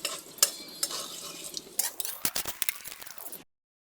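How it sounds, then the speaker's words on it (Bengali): Onion frying lightly in a pan, a soft sizzle under sharp spoon stirs and clinks against the metal, close and busy throughout. "পেঁয়াজটাকে একটু হালকা ভেজে নাও।"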